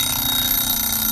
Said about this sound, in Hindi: और तभी अलार्म बज जाता है